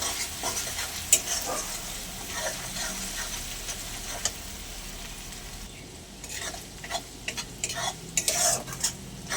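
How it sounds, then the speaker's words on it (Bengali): Ginger-garlic paste and onion frying in a pan, a continuous sizzle with repeated scraping and clicking of a spatula against the metal, busier toward the end. "আদা রসুন বাটা আর পেঁয়াজটা একটু ভাজা ভাজা করে নেবো, যাতে গন্ধটা চলে যায়।"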